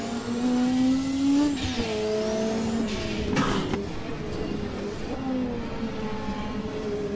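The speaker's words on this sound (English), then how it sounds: "That heel and toe downshift," A Ford race car in a racing video game drops gears with a heel-and-toe downshift, engine tone stepping and blipping through several pitch changes over steady mechanical drone, with no talk over it.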